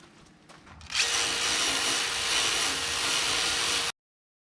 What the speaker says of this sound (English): let's go ahead and start busting the rust off of here.